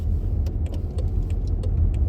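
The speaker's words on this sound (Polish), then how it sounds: "No i już w, samochodzie odjeżdżamy z hali." From inside a car pulling away from an industrial hall, a steady, loud, low engine and road rumble continues throughout, with light clicks and rattles scattered on top.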